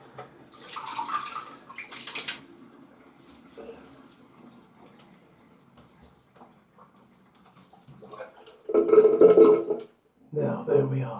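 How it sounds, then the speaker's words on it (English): Water drains and splashes in a bathroom basin after a wet shave, in short gurgling bursts separated by quiet stretches, with someone talking in between. "I'll just drain a drop of water."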